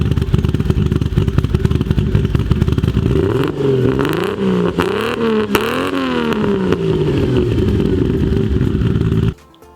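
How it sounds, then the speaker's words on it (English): A Toyota Supra engine runs loud and close on a run-in tune, idling roughly before several sweeping revs rise and fall, then it cuts off abruptly near the end. "But hearing the car, it sounds amazing."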